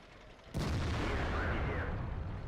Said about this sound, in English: Put a nice side shot into him there.